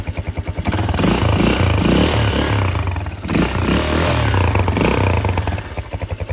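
A Shineray Intruder motorcycle engine with 12,000 km on it idles and revs close by, its low throaty exhaust pulsing steadily and rising slightly in places.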